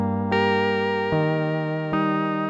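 A native Repro-5 synthesizer preset called Goodbye Rita, a bright buzzing sustained synth tone shifting pitch three times with crisp attacks, heard alone and loud.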